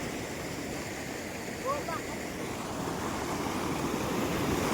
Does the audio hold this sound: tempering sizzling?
no